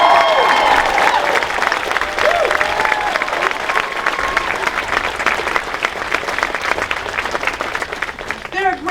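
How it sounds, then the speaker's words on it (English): Applause and cheering from a crowd at a student rally, steady and loud throughout, with whoops and voices mixed into the clapping. "Let's give a round of applause"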